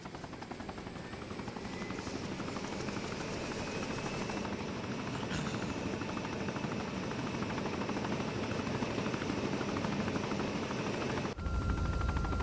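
Helicopter engine and rotor in Arma 3, a loud continuous whine and chop that runs steadily throughout before cutting abruptly near the end to a brief low rumble.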